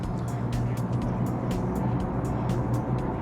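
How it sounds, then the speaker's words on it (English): A truck using its engine brake drones close behind a moving car inside a road tunnel, making a loud, constant low rumble that fills the enclosed space. "truck behind is using engine braking, so is incredibly noisy"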